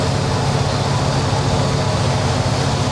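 An aircraft engine settles after startup and hums at idle as a steady, loud, unbroken broadband drone with deep low rumble. No voices are heard over it.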